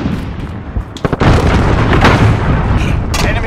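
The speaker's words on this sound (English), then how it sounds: "Allied cruise missile away." In a video game, a cruise missile strike hits with a loud close boom that rolls into a sustained rumbling blast, preceded by a few scattered pops and bursts.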